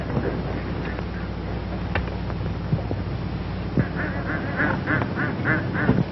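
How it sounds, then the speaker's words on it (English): Ducks quack in a quick run of calls over steady wind noise outdoors, fairly close, with a few scattered knocks before the quacking. "Look at those ducks."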